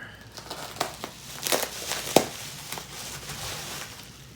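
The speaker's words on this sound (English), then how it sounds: "Get the tape open." Packing tape being pulled open and peeled during work on a 24B in the Yukon, giving brief crinkling, tearing crackles with a couple of sharper rips over a quiet background.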